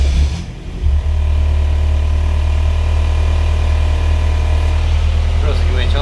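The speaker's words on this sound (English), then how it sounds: "we'll start it up, let the engine run for a couple of minutes" A race car engine catches with a short rising burst, then settles into a loud, steady, rumbling idle that runs on evenly without a break.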